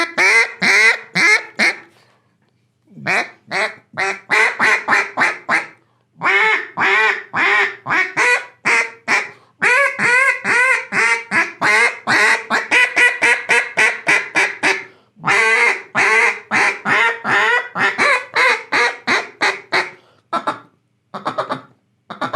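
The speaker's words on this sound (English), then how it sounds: "I'm barely putting any pressure on that call, Chris." A duck call played with barely any air pressure runs through a long, rhythmic series of close, loud quacks, grouped in bursts with brief pauses between them.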